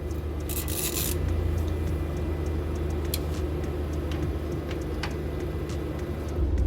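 A neighbor's car pulling in nearby: a steady, close engine rumble runs throughout, with a few faint clicks and scrapes on top and no talking.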